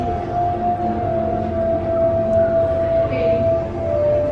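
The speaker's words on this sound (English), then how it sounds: "Beluga whales." Beluga whales vocalizing at an aquarium-type setting, with a steady high-pitched tonal whistle held throughout over a busy crowd murmur, moderately loud.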